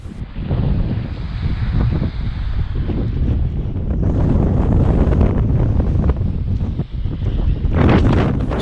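Strong wind buffets the microphone on a boat at sea during plaice fishing off Shoreham, a loud continuous roar with gusty surges and some wave wash, no voices.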